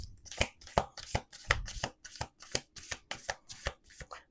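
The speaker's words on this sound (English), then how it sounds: "Let's do 2 more shuffles." A deck of tarot cards being shuffled close by, a quick run of crisp riffling snaps in steady rhythm with no talking.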